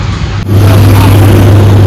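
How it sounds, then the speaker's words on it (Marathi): A Kia car driving past on a Phnom Penh street, a loud close engine hum that swells suddenly and holds steady with a low constant drone. "कियाची गाडी बघू शकता, मस्त आहे कियाची गाडी."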